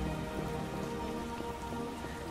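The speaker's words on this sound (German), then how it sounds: "Es regnet so stark, dass ich nicht sehen kann." Heavy rain pours steadily in The Witcher Enhanced Edition, a dense, even hiss of drops drumming on surfaces that fills the whole moment with no voices over it.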